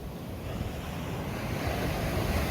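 Rough surf breaks on a beach in Zambales during stormy weather, a continuous loud wash that swells toward the end, with wind buffeting the microphone. No voices are heard.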